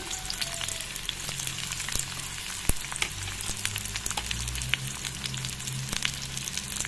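Onions sizzle and crackle steadily in hot oil, a continuous frying hiss with scattered sharp pops, fairly close.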